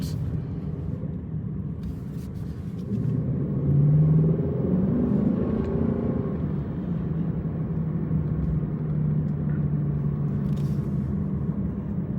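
Lexus LC 500 cruising on a road, its engine giving a steady low rumble under continuous road and tyre noise, with a brief swell in engine tone midway, heard from inside the cabin without any talk.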